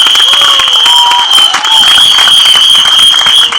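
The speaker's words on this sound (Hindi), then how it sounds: "दोनों के लिए एक बार जोरदार तालियां हो जाए फॉर द डायरेक्टर डुओ" Audience applause and cheering fill a trailer launch event for the film One Two Cha Cha Chaa, a loud, dense wash of clapping with a steady high whistle-like tone running through, and a voice briefly audible underneath.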